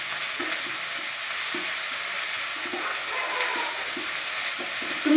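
Ginger garlic paste frying in oil for red chilli chicken, an even hissing sizzle with soft, regular scraping strokes of a spoon stirring it, close and without talk.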